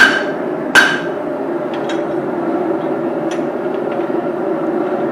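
A single sharp hammer blow rings out on a steel drift punch with an aggressive taper while forging a small ball peen hammer, followed by quieter faint taps over a steady background hum.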